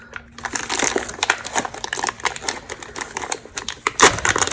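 Plastic film peeled off a resin sculptural bowl gives a run of sharp crackling and crinkling pops, close and irregular, with a louder snap near the end.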